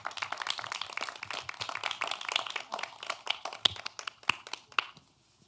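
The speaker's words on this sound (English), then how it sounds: "if we could give our panelists another round of applause" An audience applauds panelists at a discussion event on state abortion laws, a dense patter of many hands clapping close by for about five seconds before it tapers off and stops.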